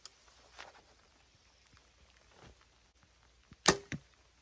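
A Sanlida Dragon 10 arrow leaves a bow with a sharp snap and brief whoosh, followed by a second quick thud, against a quiet outdoor background with a couple of faint rustles beforehand.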